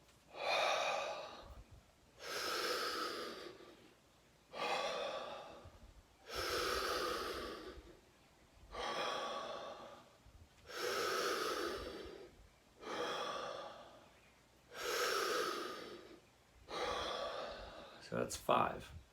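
Deep breathwork breaths follow one another in a slow, even rhythm, eight long airy inhales and exhales each about two seconds, close to the microphone and fairly soft.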